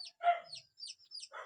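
A chicken gives a few short, faint clucks and squawks in quick succession, heard from a short distance with no talking.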